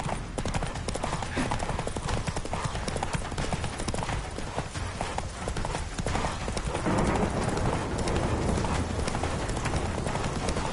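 Roach, the horse in The Witcher 3 video game, gallops hard with loud, dense, rapid hoofbeats that pound continuously and close up throughout, with no speech over them.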